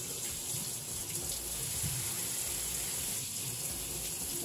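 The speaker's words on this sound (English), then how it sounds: "let me wash my hands" Hands are washed under a running kitchen tap, a steady, even hiss and splash of water that continues without a break for the whole stretch.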